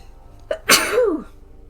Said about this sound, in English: Oh man, I feel a sneeze coming on, but it's not coming on.